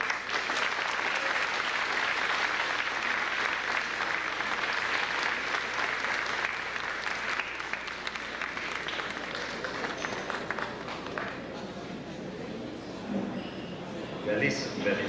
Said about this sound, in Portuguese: como consagrador é este momento em que nos reunimos aqui para aplaudir Rui Câmara.